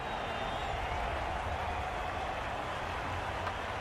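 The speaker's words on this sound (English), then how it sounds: "The crowd are really getting quite raucous." Crowd noise from a Cricket 22 video game match between India and Australia, a steady dense roar of a stadium crowd held at an even, moderate level throughout.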